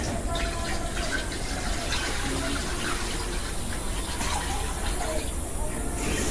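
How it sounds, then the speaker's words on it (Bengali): Water poured into a wok for cooking vegetables, a steady gushing, filling sound that runs evenly from start to finish, with a voice speaking over it. "পানি দিয়ে দিই"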